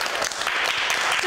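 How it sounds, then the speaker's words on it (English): An audience claps together in a brief, dense burst of applause, loud and continuous throughout. "Should we give them a clap?"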